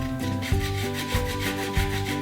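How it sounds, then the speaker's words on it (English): An unwaxed lemon is rubbed against a tiny grater in steady scraping strokes, about four rhythmic passes, close and moderately loud over a faint background hum. "you just want to do the zest of 1 lemon and add that into the mixture"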